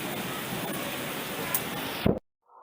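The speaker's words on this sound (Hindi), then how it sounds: "तो बारिश इतना झमाझम हो रहा है" Heavy rain pours steadily onto a wet road on a cold day, a dense, loud hiss that cuts off abruptly near the end.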